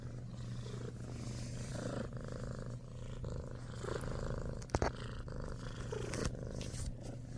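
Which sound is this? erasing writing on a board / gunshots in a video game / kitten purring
kitten purring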